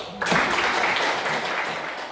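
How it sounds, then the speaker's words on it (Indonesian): A classroom group of students and teacher breaks into sudden, loud, dense applause during a teaching practice lesson, the clapping swelling quickly and holding steady nearby before easing slightly. "mari kita tepuk tangan sekali lagi"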